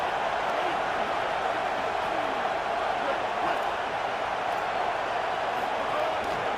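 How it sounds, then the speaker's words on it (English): Crowd noise fills the stands at a Rare Breed football game, a dense, steady roar of many voices that stays even all the way through. "This crowd going to try to make life miserable for these guys."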